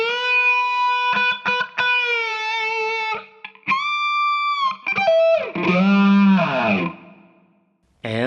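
Distorted electric guitar through a Fractal FM3/FM9/Axe-FX III preset, with sustained chorused notes, short stabs and a filtered, talk-box-like sweeping phrase, loud and close before fading out.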